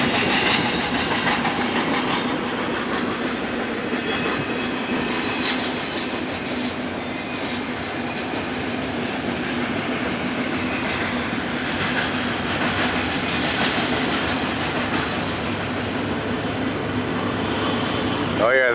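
A long container freight train with multiple locomotives rolls past in the Mojave Preserve, a steady loud rumble and clatter of wheels on rails with faint squeals, continuous throughout.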